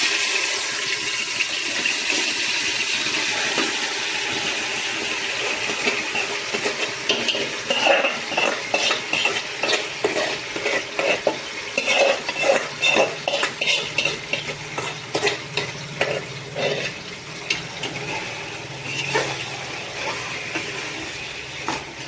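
Chicken biryani ingredients being stirred in a pot, a rhythmic scraping of a metal spoon against the pot over a soft sizzle, growing brisker in the second half, no talk.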